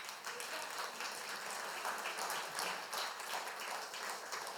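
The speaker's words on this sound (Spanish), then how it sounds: "Le damos un aplauso al Señor." A church congregation applauds during a Spanish-language sermon, a dense, continuous wash of clapping that stays steady and fairly quiet throughout.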